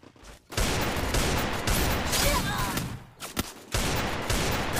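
Sustained bursts of automatic gunfire in the battle game Free Fire rattle loud and close, broken by brief gaps where the firing stops and restarts.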